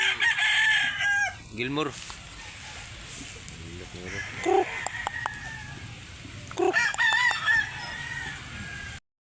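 A rooster at a chicken market in Cebu crows loudly twice, once near the start and again about two-thirds through, amid people talking and the busy chatter of a crowded sale.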